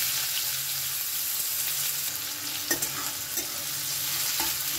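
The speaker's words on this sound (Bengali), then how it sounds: "পেঁয়াজটাকে একটু ভালো করে ভেজে নেব।" Chopped onion fries with whole cumin seeds in a pan. A steady, moderate sizzle carries a few sharper utensil knocks and scrapes partway through, and nobody talks.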